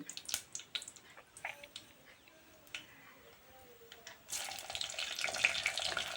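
Fenugreek and mustard seeds sizzle and pop in plenty of hot oil in a clay pot, scattered crackles at first, then a louder, steady frying hiss.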